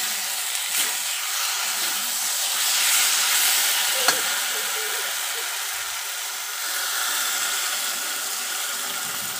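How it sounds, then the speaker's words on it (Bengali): Curry paste of ginger, garlic and green chilli cooking down in a pan with water just added, giving a steady wet hiss and sizzle alone, with no talk. "অনেকক্ষণ ধরে কষানো হচ্ছে,"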